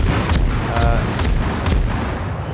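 Destroyer guns firing in the naval combat game World of Warships, a dense, loud rumble of rapid booming salvos that keeps going without pause, with no talking.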